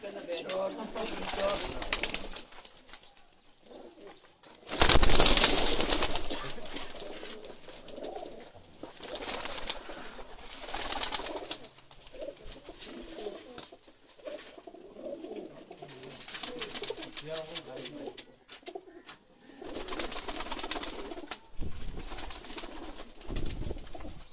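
Pakistani pigeons coo in soft, low murmurs scattered through the clip, from a flock of about 500, with people talking nearby and a few bursts of louder noise.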